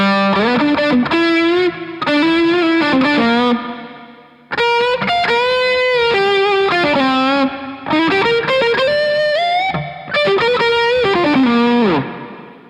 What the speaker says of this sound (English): Dry, and then comes the HeadRoom Mini on preset number B.